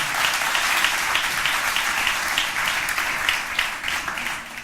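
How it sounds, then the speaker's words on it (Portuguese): A church congregation applauds loudly during a morning service, sustained thick clapping from a large crowd with slight rhythmic surges, continuous and fairly close. "Você pode aplaudir ao Senhor bem forte nessa manhã?"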